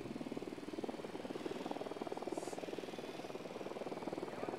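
A helicopter in the Ghost Recon Wildlands video game gives a steady, rhythmic rotor thump. It drones continuously at an even pace throughout and sounds fairly close.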